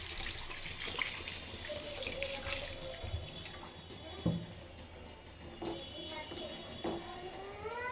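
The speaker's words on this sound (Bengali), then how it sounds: "এবার আমি পরিমাণ মতো পানি দিয়ে দিব।" Water poured into a pan of tomato and potato curry for tengra fish, a faint, running trickle with small splashes against kitchen clatter, near and fairly quiet, with brief background voices.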